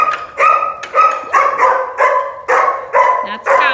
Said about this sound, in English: That's our guardian dog.